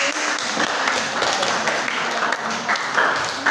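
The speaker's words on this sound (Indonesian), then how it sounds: "tepuk tangan kelompok 1" Scattered applause from a classroom of students for a discussion group that has just finished presenting, a fairly steady patter of hand claps with no talk over it.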